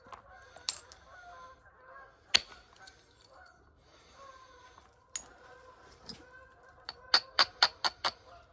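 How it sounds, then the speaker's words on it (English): Geese honk outdoors in the distance, a scatter of faint calls followed by a quick run of sharper honks, heard over light background sounds during a flint knapping session. "It's some noisy geese."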